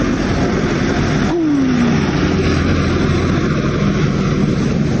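A steady roar of passing traffic, with a vehicle engine droning by up close and a brief horn-like tone partway through.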